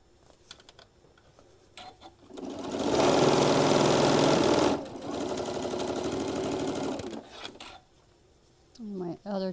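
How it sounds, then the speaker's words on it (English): A sewing machine stitches table runner seams in two loud bursts of rapid, even mechanical whirring, with a short pause between them, surrounded by quiet handling clicks and a voice speaking at the end. "I'm going to start putting my first little stitch in, just kind of anchoring it."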